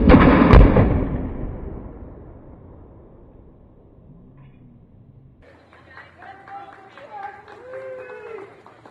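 A 2x4 cannon fires at an ICF wall assembly during a high-velocity impact test, giving one sharp, loud blast with a decaying rumble, followed by faint voices and quiet background chatter.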